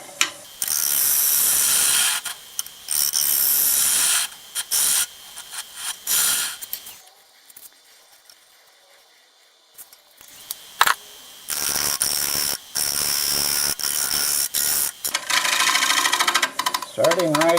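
Gouge on a wood lathe making interrupted cuts on a natural-edge maple burl bowl, a loud rapid chattering rasp that runs in bursts, drops away briefly mid-clip, then resumes steadily.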